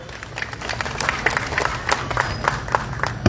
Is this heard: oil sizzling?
no